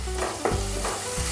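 Finely chopped tomatoes hit a pan of softened onion, giving a loud, close, continuous sizzle with a few stirring scrapes.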